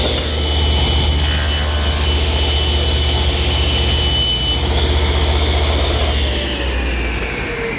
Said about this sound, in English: Two passes through the saw will take care of that.